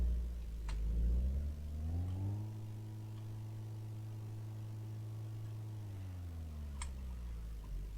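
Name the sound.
racing Lada car driven at speed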